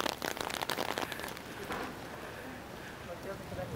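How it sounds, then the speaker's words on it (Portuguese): Summer rain falls on a street in West Harlem, New York, a steady broadband hiss with dense patter that stays fairly loud throughout, while a voice talks over it. "Nossa, a chuva piorou agora."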